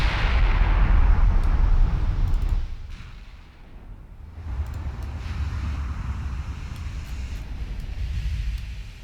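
Warship main guns firing in the naval game Ultimate Admiral Dreadnoughts, deep booming rumbles that roll and fade, then swell again into sustained low thunder.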